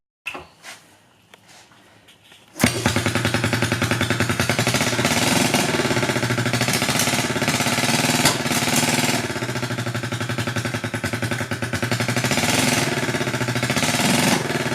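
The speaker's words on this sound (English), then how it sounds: "While the bike is running on both cylinders, the right cylinder is particularly weak." A 1972 Honda CB350 twin starts after a few faint sputters, then runs steadily with a rapid, rough, loud mechanical chatter close by, the right cylinder firing weakly.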